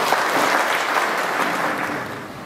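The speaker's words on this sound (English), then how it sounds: "Please let us now welcome Ms. HATCHINGHOI HAOKIP with a round of applause," Audience applause welcoming a speaker onto the stage at a felicitation ceremony in a library meeting room, a dense, steady burst of many hands clapping close by that eases slightly toward the end.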